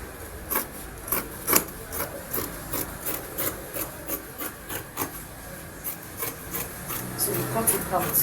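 Scissors snip through shirt-gown fabric in a series of short rasping cuts, each one close and fairly quiet, at an uneven rhythm with brief pauses between.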